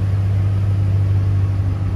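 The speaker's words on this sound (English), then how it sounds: "Listen to that rumble at the back." A 2009 Ford Mustang GT California Special 4.6L V8 exhaust gives a steady, deep rumble idling close by, constant and unbroken with no voices.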